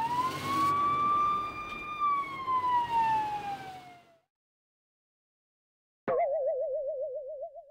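Cartoon-style fire truck siren from the 1999 PC children's game Blinky Bill, a loud rising then slowly falling wail for about four seconds, then silence, then a rapid warbling siren starting abruptly near the end.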